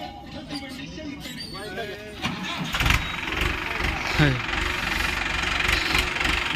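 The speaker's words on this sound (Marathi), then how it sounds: "आणि इकडे ट्रॅक्टर" A tractor engine runs steadily in an outdoor farm setting, a low mechanical drone with knocking pulses throughout while people talk over it.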